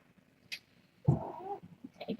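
A tiny kitten lets out a short, close meow with a faint squeak just before it, amid quiet room noise.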